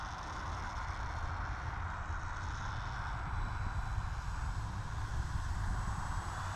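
A Durafly Auto-G2 V2 RC autogyro flying in calm evening air, its motor and rotor giving a steady, even drone that holds at a constant level throughout.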